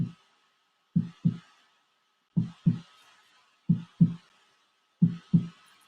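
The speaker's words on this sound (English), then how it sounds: "That's right, your mother's heartbeat." A heartbeat, heard alone and close, as slow evenly spaced pairs of deep soft thumps, four double beats in all, with near silence between them.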